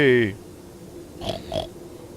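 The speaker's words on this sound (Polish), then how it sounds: "Świnki!" Pigs in the horror game Amnesia: A Machine For Pigs, with a short squealing cry followed by two low grunts, fairly close and with no talking.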